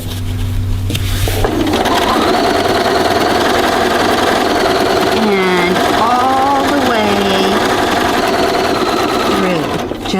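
A sewing machine stitches down a quilt binding, running loud and close in a steady continuous whir with shifting motor pitch, starting after a brief moment and stopping near the end.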